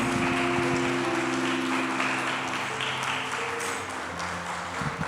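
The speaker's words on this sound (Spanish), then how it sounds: "Denle un aplauso al Señor, hermano." A church congregation applauding during a Spanish-language service, the clapping mixed with sustained tones, likely music or voices, filling the whole stretch at a fairly even level.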